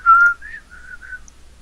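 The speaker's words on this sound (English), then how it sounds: "Whistling on my own recording while we wait." A lone person whistles a short run of notes, one long loud tone followed by softer wavering notes, close and clear.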